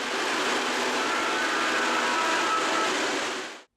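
An Amtrak AEM7 electric locomotive set, a model train, runs steadily throughout as a continuous broadband rolling rumble, fairly loud and close, then cuts off abruptly at the end.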